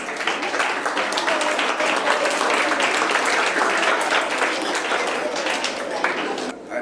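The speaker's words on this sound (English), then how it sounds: "Let's give him a hearty round of applause." A school audience at an Independence Day celebration claps in a loud, dense, sustained round of applause that fills the whole stretch and fades slightly at the end.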